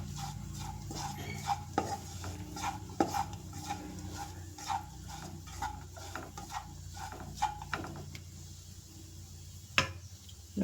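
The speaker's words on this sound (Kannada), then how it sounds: "ತೆಂಗಿನಕಾಯಿ ತುರಿ ಕೂಡ ಈರುಳ್ಳಿ, ಮೆಣಸಿನಕಾಯಿ ಮತ್ತು ಕರಿಬೇವಿನ ಸೊಪ್ಪು ಇದ್ರ ಜೊತೆಗೆ ಚೆನ್ನಾಗಿ ಎಣ್ಣೆಯಲ್ಲಿ ಫ್ರೈ ಆಗಬೇಕು" Grated coconut, onion, chilli and curry leaves fry in oil while a spoon scrapes and stirs the pan, giving irregular clinks and scrapes over a soft sizzle at low volume.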